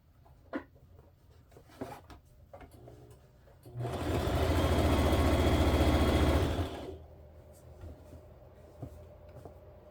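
A sewing machine stitches elastic onto a quilt in one steady, loud run of about three seconds, starting and stopping abruptly between quieter handling sounds.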